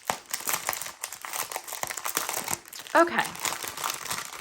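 Plastic wrapping crinkles and crackles as canvases and tools are unwrapped by hand, in irregular bursts of loud rustling, with a person briefly speaking partway through.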